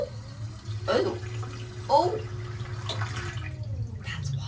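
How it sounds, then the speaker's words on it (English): Water gurgles and splashes as it is poured into a boat toilet, coming in short bursts close by, with someone speaking briefly over it. "put some water in the toilet"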